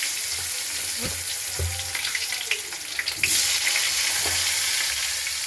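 Potatoes sizzle and fry in a pan, a steady hiss throughout with a few brief clatters of stirring, close and fairly loud with no talk.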